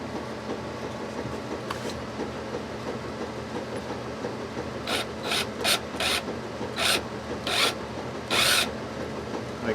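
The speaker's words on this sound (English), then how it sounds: "So I'm going to drill this out" A drill bores an eighth-inch hole for the bridge mounting on a Michael Kelly Pinnacle 4 bass, heard as about seven short bursts of whirring grinding in quick succession after a quiet stretch of faint room noise.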